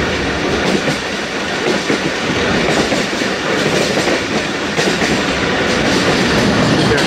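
The Thal Express rolls steadily toward the Seven Sisters tunnels on a moonlit night, giving a loud, continuous close-up roar of wheels and carriages with a clickety-clack rhythm throughout.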